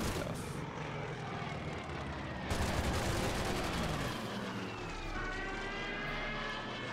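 Aircraft strafe the enemy in the World War II strategy game Order of Battle: Blitzkrieg during the invasion of Yugoslavia. A loud propeller drone gives way midway to a dense burst of rapid gunfire, which then tails off into a lingering engine hum.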